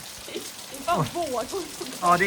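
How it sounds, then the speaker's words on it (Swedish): Heavy rain pouring down in southern France, a steady broadband hiss running under voices talking throughout. "Alltså det är verkligen fullkomligt öser ner."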